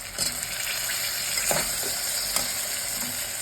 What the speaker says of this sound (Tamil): எல்லாமே சிம்மில் வச்சு நம்ம ஃப்ரை பண்ணலாம்.